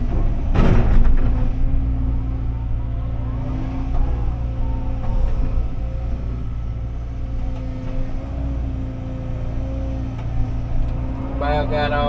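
A Cat 317 excavator works steadily at close range, its diesel engine droning continuously while the bucket scrapes for clean dirt to use in grading, with brief clanks near the start and again at the end.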